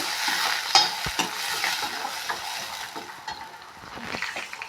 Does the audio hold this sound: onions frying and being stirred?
yes